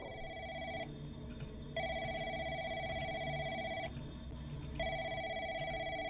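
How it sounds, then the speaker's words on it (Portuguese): A telephone rings in the horror video game The Lancaster Leak: Crisis at Call Center, with steady repeated electronic ring bursts separated by short pauses over a low background hum. "Telefone."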